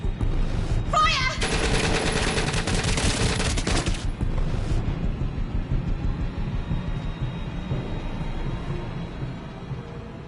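A loud burst of machine gun fire in the interactive movie game The Complex, lasting a few seconds before cutting off and giving way to quieter background sound.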